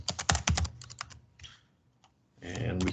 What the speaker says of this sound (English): And we can type the same here.